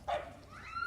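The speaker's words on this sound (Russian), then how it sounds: "собака вступается" A dog barks once, sharp and fairly close, then lets out a thin rising whine, recorded from a played-back clip of police officers scuffling with a man.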